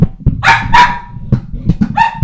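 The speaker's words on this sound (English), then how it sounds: "She keeps barking." A dog barks several times in quick, sharp bursts, close and loud, with brief pauses between the barks.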